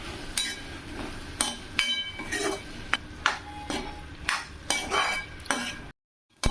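Potatoes coated in masala stirred in a frying pan with garlic: repeated scraping and clinking strokes of a spoon against the pan over a soft sizzle, close and fairly loud, with a brief silence near the end.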